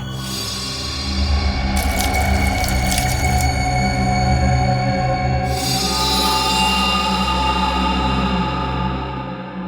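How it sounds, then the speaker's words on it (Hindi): Water poured onto gulal powder, a steady loud rushing pour with two brief bursts of brighter splashing, heard alone without talk. "विवेक, इस गुलाल पे पानी डाल के देखो।"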